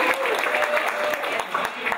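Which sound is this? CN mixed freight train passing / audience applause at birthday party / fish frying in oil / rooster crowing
audience applause at birthday party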